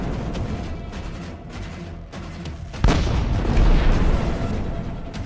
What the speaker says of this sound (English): And then a Ukrainian tank fires point blank at another Russian APC.